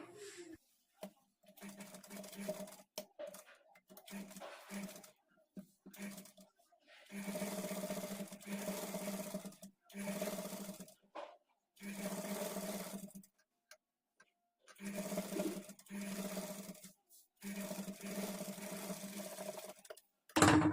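A sewing machine stitching a princess-cut padded blouse, running in steady humming bursts of a few seconds each with brief pauses between, close and clear.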